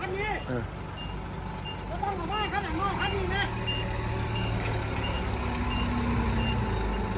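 A forklift backs up at a workshop, its reverse alarm sounding a string of repeated high beeps over a constant low engine rumble and insect-like chirping, with a voice talking nearby.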